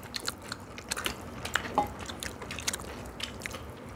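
Korean mukbang eating of a mixed rice bowl with seasoned old cucumber, clam soft tofu stew and pork: close, scattered bites and squishy chewing with small crunches and wet mouth sounds, no talking.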